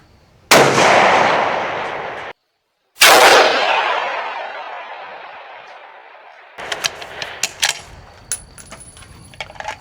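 Two loud, sharp gunshot blasts from a 10-pound 6.5 Creedmoor rifle ring out outdoors a few seconds apart, each with a long decaying echo, followed by faint clicks and handling noises.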